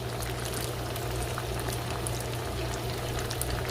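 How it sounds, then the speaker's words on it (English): Chicken wings frying in oil on a stove top, a steady, dense sizzle and crackle that holds even and fairly loud throughout, with no voices over it. "I'm gonna let that fry just a little bit longer"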